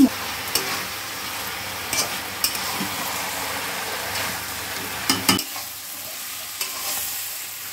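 A small splash of water goes into taro stolons frying with mustard paste, and a busy sizzle follows under repeated scraping stirs of a spatula against the pan, close and fairly loud throughout.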